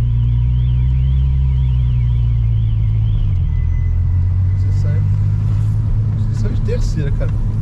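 A Volkswagen Golf six-cylinder engine revs up under acceleration, a loud deep rumble with a rising whine before a gear change, while people talk inside the car.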